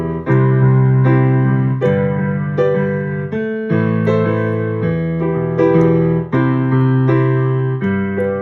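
Sustained piano chords played by both hands change every couple of seconds, full and ringing, in a slow, even rhythm with no voices.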